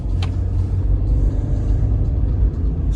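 Engine of a Renault Scenic 2 with an automatic gearbox pulling away under throttle, a loud, continuous low rumble heard from inside the car, steady and droning for the whole stretch.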